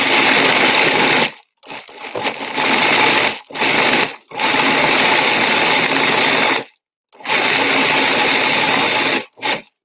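A food processor pulses dates and chocolate sandwich-cookie crumbs into a brownie-bite mixture, loud whirring bursts of about a second or two each, separated by brief silent gaps, with no talking.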